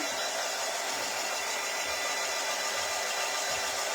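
A hair dryer blows on a wooden spring-bird craft piece, a steady, loud, airy hiss that holds constant throughout with no pauses.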